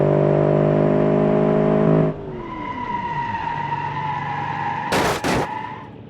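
Small-engined, very light sports car in BeamNG revving hard, then the engine note drops away into a lower drone before two sharp bursts of noise near the end; loud and close, no talking.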